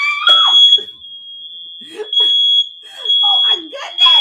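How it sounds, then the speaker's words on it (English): Smoke detector alarm sounding indoors, a loud continuous high-pitched tone under people talking over it. "Let me see why the smoke detector is going on."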